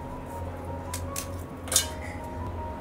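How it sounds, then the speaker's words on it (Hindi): Biscuit pieces broken by hand drop into a kitchen mixer jar with a few faint, brief clinks and taps over a low steady hum. No one speaks. "मिक्सर जार के अंदर सभी बिस्किट को छोटे छोटे टुकड़े करके और इसके अंदर डाल देंगे"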